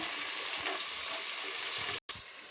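Onions dropped into hot oil with cloves, cinnamon and shahjeera in a pan, a steady broadband sizzle and hiss running throughout, close and fairly loud, with a brief cutout near the end.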